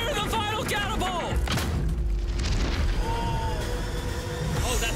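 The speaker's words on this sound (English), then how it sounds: "Fire the final catapult." Catapult shot fired in an outdoor challenge to protect a yacht: loud booming thuds and a crashing impact over continuous wind-like rumble, with people shouting and reacting excitedly throughout.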